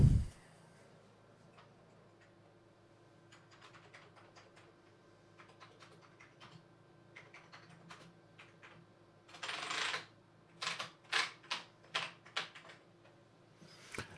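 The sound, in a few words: typing on an Amiga 4000 computer keyboard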